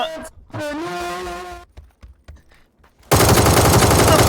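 A close, loud burst of PUBG gunfire cuts in after a short pause and keeps going as sustained rapid shots. A voice is heard earlier.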